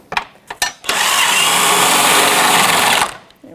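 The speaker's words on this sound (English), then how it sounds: "I'm going to grab the gun with the 21mm socket on it" An impact gun fitted with a 21mm socket works on a front control arm of a 2007-2017 Jeep Patriot 2.4L, with a few short taps and then one loud, sustained burst of rattling hammering lasting about two seconds before cutting off.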